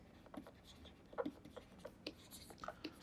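Quiet, scratchy writing strokes as a physics problem is written down, arriving in short irregular bursts, faint and close.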